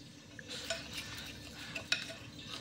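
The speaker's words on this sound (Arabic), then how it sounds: "نحط مغرف فرينه، نحرك كلش مع بعض" A flour and oil batter gets stirred with a utensil, soft faint scraping and a few light clicks against the bowl, quiet and alone.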